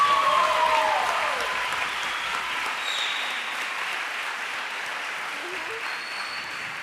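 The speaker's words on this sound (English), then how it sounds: "let's just take a second to give the kids a round of applause" Sustained audience applause at a spring school band concert, a steady broadband wash of many hands clapping that holds for several seconds and slowly thins, with a faint tone or voice briefly audible early on.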